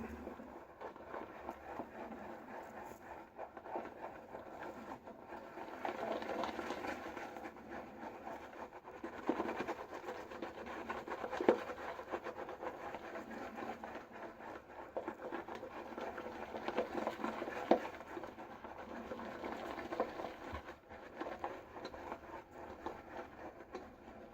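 Soft, steady squishing and stirring of a thick shaving soap lather mixed with a teaspoon of water, continuing for a long stretch at low volume with no voices.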